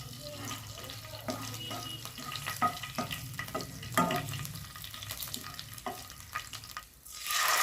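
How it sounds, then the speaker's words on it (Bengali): Whole garam masala, bay leaf and dried chilies fry in hot oil in a pan for a chicken korma stew, a steady low sizzle broken by scattered clinks and stirring scrapes, with a brief splashy rush near the end. "তেলের মধ্যে আমি দিয়ে দিলাম গোটা গরম মশলা,"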